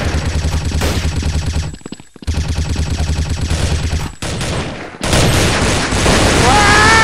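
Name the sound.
gunfire in the browser video game Bloodstrike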